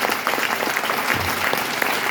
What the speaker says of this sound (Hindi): एक बार सबके लिए ताली बजा लीजिए।